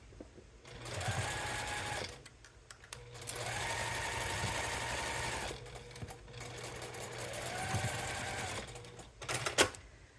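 Sewing machine stitching a quilt in three runs of steady, rapid mechanical whirring and clatter, each lasting a couple of seconds and separated by short pauses, close but fairly quiet, with a sharp click near the end.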